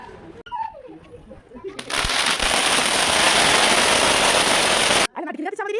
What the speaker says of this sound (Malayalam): നമ്മൾ പിന്നെ പടക്കമൊക്കെ വാങ്ങി നമ്മൾ നല്ല അടിപൊളിയായിട്ട് നമ്മുടെ വീടിൻ്റെ ഫ്രണ്ടിൽ നമ്മുടെ വെടിക്കെട്ടൊക്കെ നടത്തി.